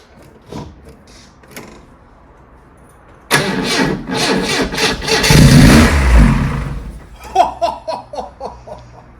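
An old Lotus Elite engine, unstarted for 10 years in a barn, cranks briefly, catches and roars loudly to life, then rumbles unevenly before settling into a rough idle.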